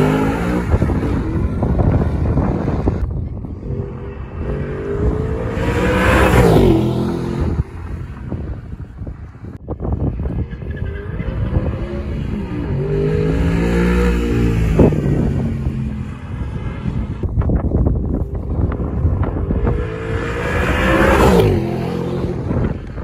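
Supercar driving a timed lap on a race track, its engine rising and falling through repeated revving sweeps as it accelerates and shifts, loud and continuous for the whole stretch with no talk.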